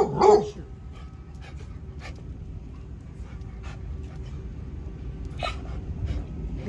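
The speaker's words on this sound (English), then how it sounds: "Alarm bark." A dog lets out a sharp alarm bark, one loud close burst at the start, followed by quieter faint yelps and rustling in an otherwise calm room.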